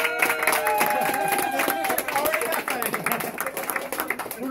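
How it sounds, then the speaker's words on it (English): Restaurant guests at a Buca di Beppo clap for a birthday, a busy crowded patter of applause mixed with chatter and a cheer or two, steady through the moment with voices over it. "Let's give Jeff a round of applause."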